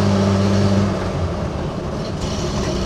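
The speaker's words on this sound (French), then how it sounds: "c'est le moteur hein, qui est forcément assez sonore parce que ben il est là, hein, il est à 20 cm de mes pieds" Engine of an old Renault Estafette utility van, mounted close beside the driver's feet, drones loudly and steadily while the van drives over a bumpy road, with a low hum and rattling underneath.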